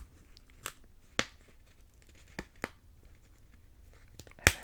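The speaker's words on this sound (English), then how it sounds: "There's some nice peeling noises." Plastic wrapping peeled off swag bag items, heard as a few sharp, close crackling rips spaced apart over a quiet background, with the loudest tear at the end.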